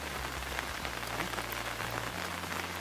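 Steady rain falls on a farm during vegetable harvesting, a dense, continuous hiss of drops on surfaces close by, with no talk.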